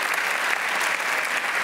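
Dense, steady applause fills the hall at the Les Arcs Film Festival opening ceremony, a large audience clapping continuously and loudly throughout.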